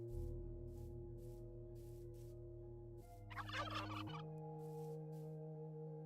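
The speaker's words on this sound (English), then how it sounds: "that was a full-on turkey sound." A turkey gobbles in a video game, one sharp rattling gobble rising briefly over a droning music track with rhythmic soft background pulses, the call fairly prominent and close.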